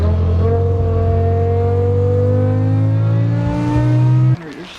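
BMW M5 engine accelerating while driving, a loud steady drone rising in pitch through a long pull before easing off.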